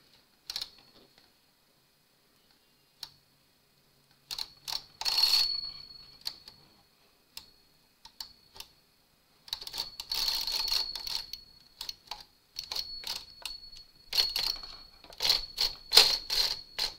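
A knitting machine's regular carriage set to tension 9 slides across the needle bed in several rattling, clicking passes, each a burst of close mechanical clatter separated by short pauses, with no talk.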